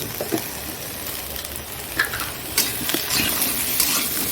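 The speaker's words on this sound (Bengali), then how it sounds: "খুব আওয়াজ দিচ্ছে গ্যাসটা" A gas stove burner roars steadily at close range while chicken with hog plums and a pumpkin-potato curry cook, with a few soft clinks of stirring and sizzling over it and no speech.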